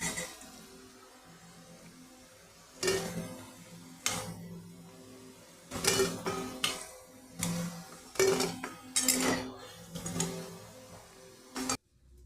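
Fried taro fritters are lifted out of a frying pan, with scattered metallic clinks and scrapes of a utensil against the pan over a quiet sizzle, about a dozen irregular knocks spread across the stretch.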